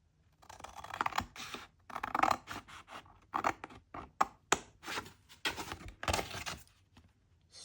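Scissors cutting card for a handmade easel drawer box card, close irregular snips and crisp rustling scrapes in quick clusters with brief gaps, no talking.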